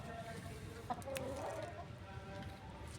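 Chicken clucking from a breeding bloodline flock, a few soft clucks and short calls heard fairly faintly over low farmyard background noise.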